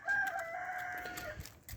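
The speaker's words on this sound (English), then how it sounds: "first things first, sort the chickens out" A rooster crows in one long drawn-out call, close and loud, with a little clucking from farmyard chickens around it as they are tended in the morning.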